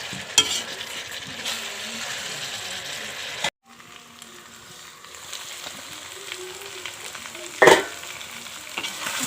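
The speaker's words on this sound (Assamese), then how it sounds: "এতিয়া মই ইয়াত আলুখিনি দি দিম। আলুখিনি দি লৰাই ঢাকন দি দিম।" Chicken pieces and potatoes sizzle steadily in a pan as they are stirred, with a brief break partway through and a sharp metal clank near the end.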